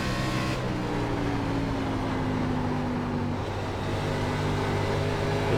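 An ARCA stock car's engine holds a steady, loud drone at full throttle out of a corner at Iowa Speedway in iRacing, with a sustained high engine tone.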